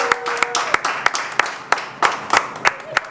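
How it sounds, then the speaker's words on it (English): A comedy show audience applauds a brewery's head brewmaster, sharp separate claps from a small group ringing out near and crisp, mixed with a few brief voices. "Let's give a round of applause for James in the house"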